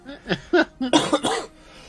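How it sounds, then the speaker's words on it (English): A person coughs several times in quick succession, short harsh bursts close to the microphone while still recovering from COVID, with no speech in between. "excuse my coughing"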